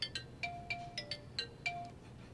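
Phone ringtone playing a repeating electronic melody of short bright tones, steady and moderately loud, with no speech over it.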